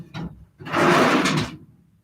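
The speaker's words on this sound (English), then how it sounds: "There's 15 drawers, as you can hear." A drawer in a large fifteen-drawer paper cabinet is pulled, with a short knock followed by a longer rumbling slide, close and fairly loud with no speech.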